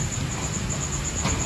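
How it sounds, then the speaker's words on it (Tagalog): Heavy rain falls in a cemetery at night, a dense, even roar that stays close and unbroken throughout. "Medyo malakas ang ulan."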